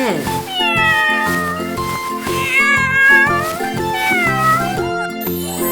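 A cat meows repeatedly in drawn-out, wavering cries over steady, rhythmic children's music, loud and close throughout, in a farm-animal toy scene.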